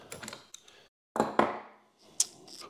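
A nut is tightened on the negative terminal of a 12V DC system, heard as close, brief metallic clicks and ratcheting scrapes in short bursts separated by pauses.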